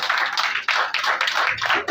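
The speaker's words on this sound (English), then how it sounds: "Let's give them a round of applause." A room applauds at the launch of a breast cancer awareness project as guests step up, a dense patter of clapping that swells and dips in short waves with no talk over it.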